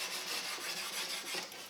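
A smooth steel hatchet edge is pressed and rubbed back and forth along a wooden Greenland kayak paddle to burnish it, giving a steady close rasping scrape with faint rhythmic strokes.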